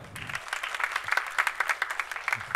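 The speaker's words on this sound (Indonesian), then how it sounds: "Boleh dong tepuk tangan sekali lagi dong" An audience in a church service claps at the preacher's request, giving a short, steady burst of applause with a brief voice at the start and end.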